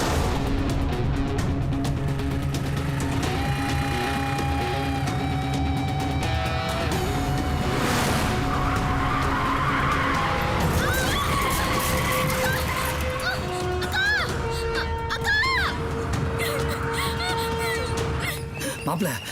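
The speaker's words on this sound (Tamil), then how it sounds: "துரை வண்டி எடுக்க" Car engine revving and tires skidding as a vehicle drives off in a Tamil action film scene, dense and loud throughout with rising engine tones and a screeching burst midway, under dramatic music and possible speech.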